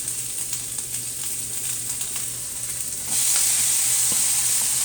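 Ham, onion and ham seasoning fry in a pan for an omelette, a steady close sizzle with light stirring that jumps louder and hissier partway through as more goes into the pan.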